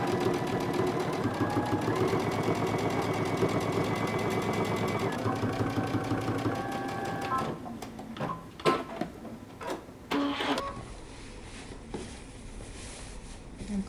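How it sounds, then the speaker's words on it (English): Sewing machine stitching a jumpsuit seam, a fast steady mechanical whir for several seconds, then stops and is followed by scattered handling clicks and fabric rustles. "we're going to sew using 3/8 of an inch seam allowance"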